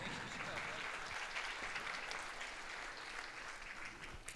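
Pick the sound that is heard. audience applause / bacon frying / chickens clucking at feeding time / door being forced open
audience applause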